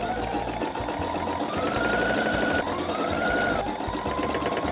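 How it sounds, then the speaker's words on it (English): A sewing machine runs steadily up close, its motor whirring and needle chattering, with brief changes in speed. "we're gonna sew pushing the two sides together"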